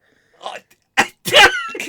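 A single sharp sneeze bursts out close to the microphone, with people chatting briefly before and after it.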